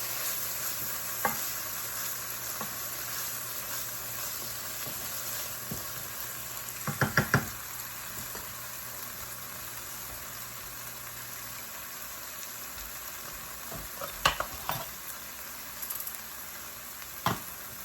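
Cajun-seasoned food frying in a pan for one-pan Cajun chicken and rice, a steady soft sizzle throughout with occasional stirring scrapes and clinks, fairly quiet and close, no talking.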